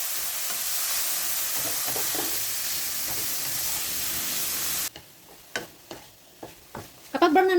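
Vegetables browning in a frying pan on a stove, a loud steady sizzle for the first half that cuts off abruptly, followed by scattered stirring scrapes and clinks with a voice speaking briefly.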